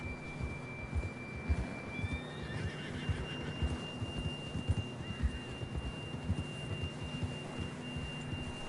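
A horse in the video game Red Dead Redemption 2 whinnies over rhythmic hoof clip-clops, with faint tonal game sounds and no speech.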